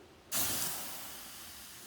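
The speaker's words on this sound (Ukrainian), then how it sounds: "Чуєте, як шипить шипить вода в балоні?" Steady loud hissing of water in a hot cylinder on a burning greenhouse heating stove starts abruptly and continues, slowly fading a little, with no voices.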